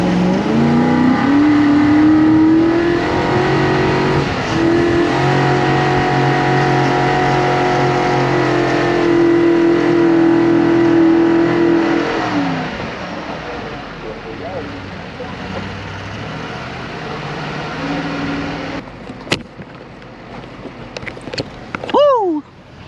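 A rally car drives loud and close under hard acceleration, its engine note climbing steadily through a gear before easing off, then a quieter rumble with a few sharp transient knocks near the end.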